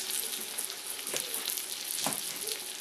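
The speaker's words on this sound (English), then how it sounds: "Get a nice little sear. Listen to that go." Salmon fillets sear in a hot pan with a steady, close sizzle throughout, broken by a couple of brief scraping or shifting sounds.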